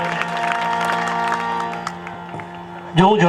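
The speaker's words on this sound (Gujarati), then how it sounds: "જોરદાર તાળીયા મારા અને તમારા ઘડવૈયા સુરવીરોને." Audience clapping at a large religious satsang gathering, a sustained crowd applause under a loud amplified voice that then gives way to a sharper burst of noise at the end.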